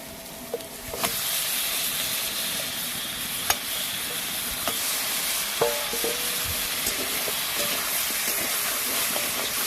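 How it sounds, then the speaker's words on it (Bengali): Washed chicken pieces cooking in a pan of fried spices, a loud continuous hissing sizzle with intermittent stirring clicks and scrapes scattered through, no voices. "মশলাগুলো কষানো হয়ে গেছে, এবার আমি ধুয়ে রাখা মাংসগুলো দিয়ে দেবো।"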